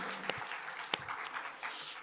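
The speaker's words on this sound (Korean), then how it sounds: "하나님께 영광의 박수 올리겠습니다." A church congregation at a prayer meeting for a new sanctuary claps briefly, a soft scattered patter of hands with a few sharper individual claps.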